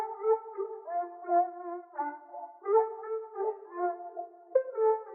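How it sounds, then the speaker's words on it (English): Reverb-washed vocal chop sample from a producer kit, a sung, pitched voice cut into short melodic phrases that repeat in a steady loop with a soft echo tail, clear and alone without talk. "what really turned up the entire loop was this vocal chop from Noble, his producer guide kit"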